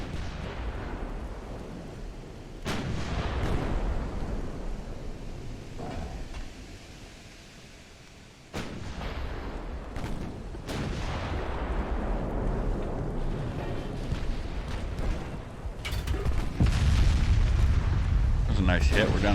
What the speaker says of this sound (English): That was an armor-piercing shell.